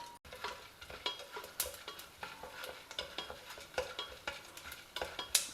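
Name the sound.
groundnuts, chana dal and urad dal frying in pan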